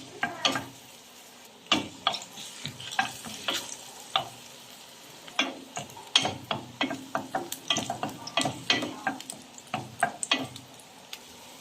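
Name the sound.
ginger sizzling in hot oil in a pot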